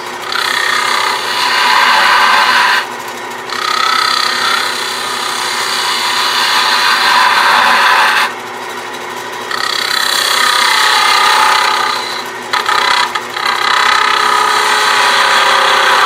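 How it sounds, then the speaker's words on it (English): Wood lathe turning a wooden box with a thicker detail gouge, the tool chattering against the spinning workpiece in a loud, continuous rasping scrape broken by a few short pauses. "Getting a little chatter so I can tell it's not running vertically through."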